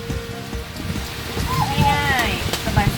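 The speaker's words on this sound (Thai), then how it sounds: "น้องกุ๊กของเราหลบฝนอยู่ครับ" Steady heavy rain pours onto an outdoor field hut during a storm, a dense continuous hiss throughout, and voices briefly talk over it partway through.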